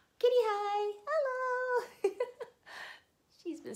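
A house cat meows several times up close, drawn-out cries followed by shorter chirps, with soft human voices mixed in.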